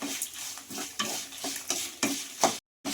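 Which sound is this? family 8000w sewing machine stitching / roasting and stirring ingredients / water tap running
roasting and stirring ingredients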